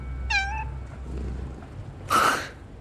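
A cat gives two separate meows about two seconds apart, the first clear and tonal, the second louder and harsher, heard close up over a low background hum.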